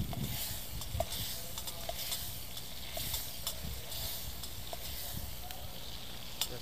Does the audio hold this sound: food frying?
yes